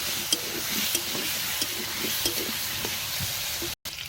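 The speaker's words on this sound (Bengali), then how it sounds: "আলুগুলো ভাজা হয়ে গেছে তুলে নেব" Potatoes seasoned with salt and turmeric fry in a pan, giving a continuous sizzle broken by soft, repeated stirring knocks, with a short dropout near the end.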